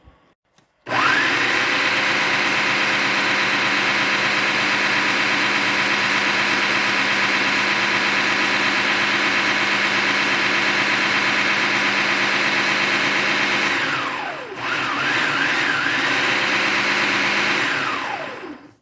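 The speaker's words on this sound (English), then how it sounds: "putting the egg, the oil, and the sugar in the food processor to make my cake light and fluffy" A food processor whirs steadily at close range, mixing egg, oil and sugar for a whole grain cereal banana bread batter, running loud and continuous, with a short dip near the end before resuming.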